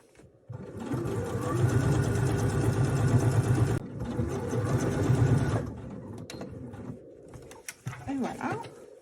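A sewing machine stitches the long side of a fabric pouch in two steady, close, rapid runs separated by a brief break, then stops, leaving a quieter stretch with a voice and a bird's coo.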